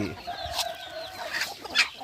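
Chickens cluck softly in a garden where hens are kept, a few short, fairly quiet calls over faint outdoor background.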